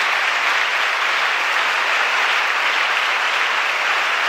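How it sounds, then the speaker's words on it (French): A loud, unbroken wash of applause greeting a governor's entrance at a ceremony in Katwe, steady and dense from start to finish with no voices standing out. "sera saluée par une salve d'applaudissements"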